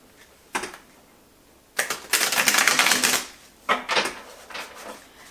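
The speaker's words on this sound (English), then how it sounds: "and then I shuffle my cards." Tarot cards riffle and snap in a few quick bursts, one longer flurry in the middle, with short pauses between shuffles, close and crisp.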